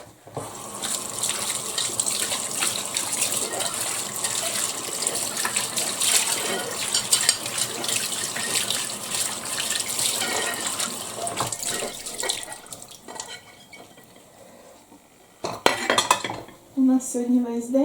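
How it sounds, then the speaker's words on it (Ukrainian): Dishes and cutlery clatter under a steadily running tap for most of the stretch, then the water stops and a few clinks and a brief voice follow. "я помию за той час посуд"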